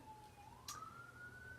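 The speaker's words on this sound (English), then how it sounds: "Excuse that siren in the background." A faint, distant emergency siren wails in the background, its tone sliding steadily upward in a single long sweep with no talking.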